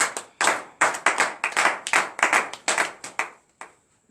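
A church congregation at a morning prayer gathering claps in bursts, about a dozen sharp rhythmic claps in quick succession, close and loud, ending in a few scattered claps, with no speech.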